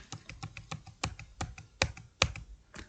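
Computer keyboard keys tapped in a quick, uneven patter of soft clicks, with a few firmer key presses standing out, close and fairly quiet with no talk.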